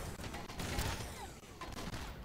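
Gunfire rattles in rapid, close bursts as swamp enemies are shot in the video game Swamp Attack, the sharp cracks stacking into a dense fusillade.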